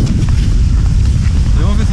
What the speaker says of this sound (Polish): ten wiatr tak wieje, że ja nie wiem, czy nas nie zdmuchnie